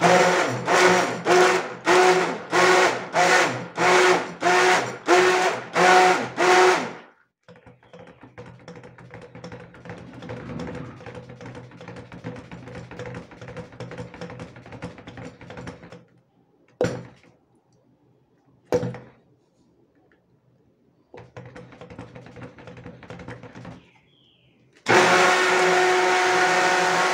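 Stick blender mixing coconut oil cold process soap, running in about eight loud rhythmic pulses, then a quieter stretch of stirring and clatter with brief gaps, before the motor roars again near the end.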